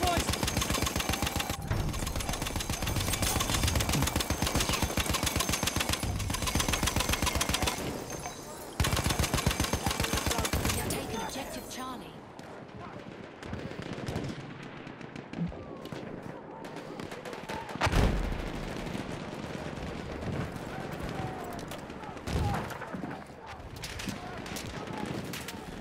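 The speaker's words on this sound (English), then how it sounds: "Machine gun! One of theirs! Machine gun!" Enemy machine gun fire in a multiplayer shooter, long loud bursts of rapid shots up close, then scattered shots and explosions further off, with a player talking over the fighting.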